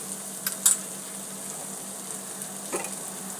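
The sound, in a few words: spices sizzling while stir-frying soybean on tava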